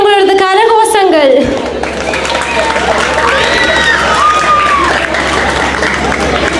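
Audience at a student prize-giving ceremony during a temple festival breaking into applause and scattered cheering, a broad crowd clatter that follows a brief spoken announcement.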